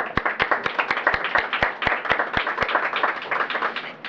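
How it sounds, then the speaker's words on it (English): An audience at a HUD milestone event for a homelessness prevention and rapid re-housing program claps steadily, sharp close hand claps ringing out in a quick even rhythm over a fuller wash of applause. "Give a round of applause."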